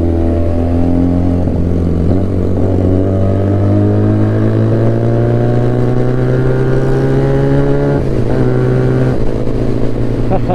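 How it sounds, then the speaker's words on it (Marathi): A motorcycle fitted with an aftermarket SC Project exhaust revs loud and close, its deep engine drone climbing steadily in pitch for several seconds, dipping briefly, then pulling up again without a break. "विसर सुद्धा गाडी कसली वाजते खतरनाक माहिती आहे का."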